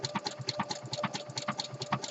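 Sewing machine stitching fold-over elastic onto a jockstrap pouch edge, woolly nylon in the bobbin: a steady, moderate mechanical chatter of quick rhythmic needle strokes, fairly quiet and close, with no talking.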